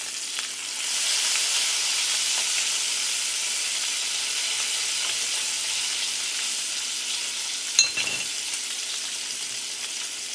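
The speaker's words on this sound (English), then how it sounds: "Bacon don't take long to cook. Start off with the hot pan." Bacon sizzles in a hot frying pan with a loud, steady crackling hiss up close, one brief clink partway through.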